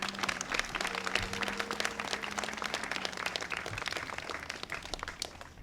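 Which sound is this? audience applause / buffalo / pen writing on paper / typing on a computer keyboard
audience applause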